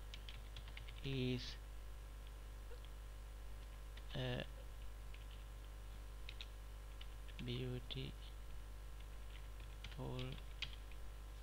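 Faint clicking on a computer keyboard runs beneath someone speaking in short bursts, in a quiet room with a steady low hum.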